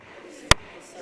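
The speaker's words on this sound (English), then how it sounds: "So we've never had anybody clap right after the gavel is banged." A single sharp gavel strike lands at a council meeting, one loud, short bang in the middle of quiet room tone.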